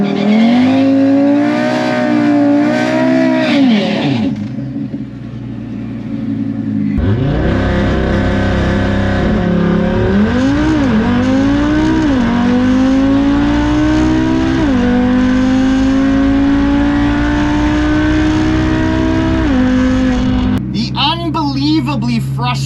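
A drag racing car launches down the quarter mile, its engine roaring loudly and climbing through repeated rising gear pulls, with a brief lull between surges and a sharp change near the end.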